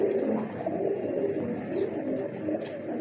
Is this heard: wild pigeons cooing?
yes